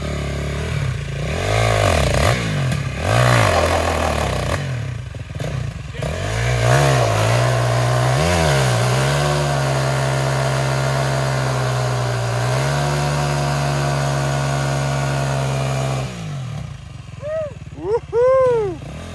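KTM ATV engine revving hard during a burnout outdoors: loud, close rising and falling revs with a sustained high-rpm roar, then sharp throttle blips near the end, with people's voices mixed in.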